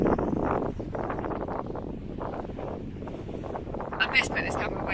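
Strong wind buffets the microphone at a campsite, loud continuous low roaring gusts rising and falling, with faint voices in the background.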